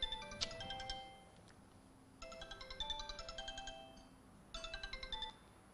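A mobile phone ringtone plays in repeated melodic bursts of bright electronic notes with short pauses between phrases, fairly close and clear, with no talk over it.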